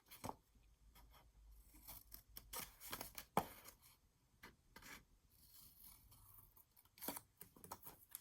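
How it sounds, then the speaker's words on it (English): Scissors cutting folded paper for a junk journal pocket, a series of crisp close snips and rasping slices in irregular bursts with quiet gaps between. "let me fold this really good so you guys can kind of see where I'm cutting"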